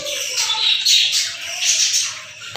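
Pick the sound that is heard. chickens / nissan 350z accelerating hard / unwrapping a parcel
chickens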